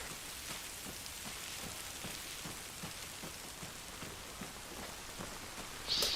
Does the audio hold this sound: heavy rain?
yes